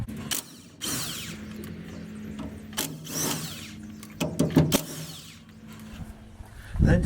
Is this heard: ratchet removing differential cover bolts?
yes